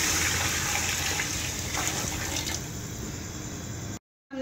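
Water pours steadily into a pot of rice with a rushing, splashing sound that thins out toward the end before cutting off.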